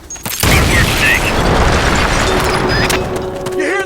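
A loud, close C4 explosion in the video game Metal Gear Solid: Peace Walker booms after a brief moment, followed by rumbling debris and a lingering roar as it fades.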